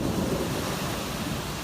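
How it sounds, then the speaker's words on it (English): An intense storm pounds the Northeast with heavy downpours and powerful winds, a dense continuous roar of rain and rumbling thunder filling the whole stretch at steady loudness. "Intense storms pounded the Northeast Monday"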